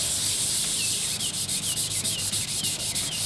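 Steady scratchy rubbing as car body paint is hand sanded on a 1963 Cadillac, with close, even back-and-forth strokes that run continuously without speech.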